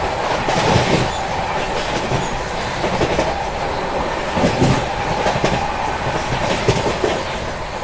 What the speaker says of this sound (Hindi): पहले सियालदह राजधानी, डिब्रूगढ़ राजधानी, उनकी क्रॉसिंग मैं आपको दिखाता हूँ।